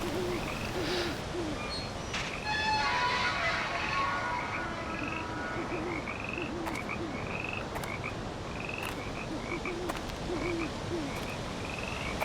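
Frogs croak at night in the game Nancy Drew: Curse of Blackmoor Manor, with a dense, steady chorus of repeated calls and a few brighter chirps over a constant night-ambience bed and no voices.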